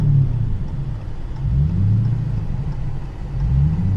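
A 426 Whipple-supercharged Hemi engine idling with a deep rumble that rises and falls in slow, repeated surges, loud and close.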